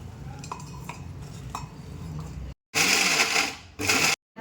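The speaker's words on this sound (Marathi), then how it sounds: "आता मिक्सरच्या भांड्यात मी हे वाटण फिरवत आहे." A mixer grinder whirring roasted masala paste into a fine grind, heard as two loud bursts of motor roar with a silent gap between them, after quieter clinks and kitchen handling.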